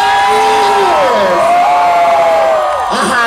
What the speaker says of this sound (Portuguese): Eu quero agora muitos gritos!